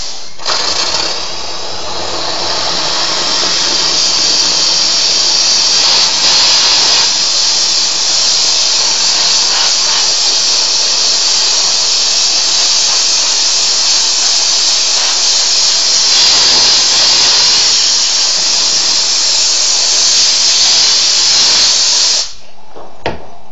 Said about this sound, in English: And let's turn on our steam.